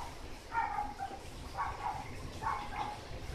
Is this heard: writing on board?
no